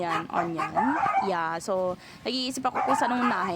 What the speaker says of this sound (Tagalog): yan yung aso ko.